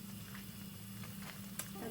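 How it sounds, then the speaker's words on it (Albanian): Breaded meat patties coated in egg and flour fry in oil over medium heat, giving a steady, close sizzle with a low hum underneath throughout. "Vazhdojmë t'i skuqim në temperaturë mesatare,"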